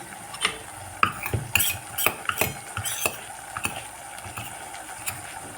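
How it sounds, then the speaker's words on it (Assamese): Soaked spice paste is stirred into a pan of onions for chicken, with a spoon scraping and clinking in irregular strokes over a soft sizzle, close and alone. "এতিয়া মই তিয়াই থোৱা ধুনীয়াকৈ পানী দি ভিজাই থোৱা মছলাখিনি দি দিছোঁ"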